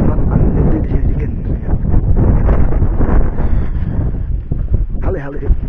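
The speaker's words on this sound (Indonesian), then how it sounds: "Cuman angin gede di sini dikit." Strong wind gusting across Mount Cikuray's summit, buffeting the microphone in a loud, continuous roar, with a voice speaking faintly beneath it.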